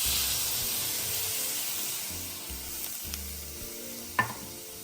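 Water poured into a hot wok for taro cake batter, bursting into a loud steamy hiss that settles into a steady sizzle, with stirring scrapes and one sharp clink near the end.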